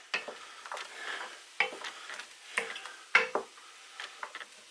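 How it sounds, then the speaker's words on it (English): Steak and ale pie filling with brown ale being stirred in a pot, heard as a series of spaced spoon scrapes and knocks against the pan over a faint simmering fizz, fairly quiet and close. "And then we give all that a good old stir."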